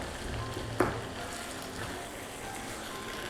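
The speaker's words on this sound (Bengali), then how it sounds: "একটু বেরেস্তাগুলো উপরে তুলে ভালো করে নেড়ে চেড়ে নিচ্ছি।" Fried onions sizzling in a pan as they are stirred and turned, a soft continuous frying hiss with a brief scrape of the spoon early on, no talking.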